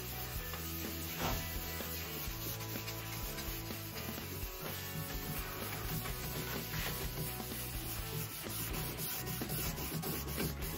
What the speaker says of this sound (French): Et on continue de frotter jusqu'à ce qu'on voit plus du tout la poudre de ponce.